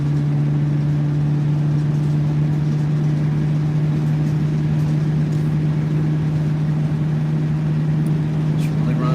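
A car nicknamed Baby Purr climbing a hill, its engine holding a steady, loud, close low drone from start to finish, unchanging in pitch, with no one talking.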